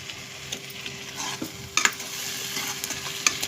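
Eggs being stirred into an onion egg curry in a hot pan, a steady sizzle broken by a few sharp scraping clinks of the spoon against the pan, close and fairly quiet, with no talk.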